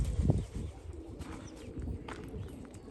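A Tempo pigeon, a small, heavily feathered breed, coos close by in a quiet indoor space, giving a soft low burst at the start followed by faint murmuring calls, with no talking.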